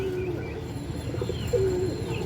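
Pigeons coo softly and steadily in low murmuring calls, with one brief clearer coo near the end and no talk.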